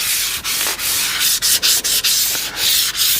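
High-grit sandpaper rubbed back and forth over a semi-hollow jazz guitar's finish, a loud, steady rasping in quick strokes with brief gaps between passes, no speech.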